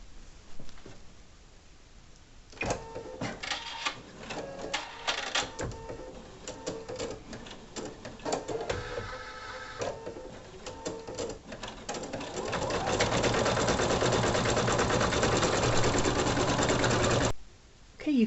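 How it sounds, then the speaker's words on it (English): An embroidery machine stitches out the first color of a 3D clematis flower, a steady rapid mechanical whirring and clatter that starts, pauses briefly and runs louder and denser toward the end before stopping abruptly. "we're going to go ahead and just start stitching out the first color sequence"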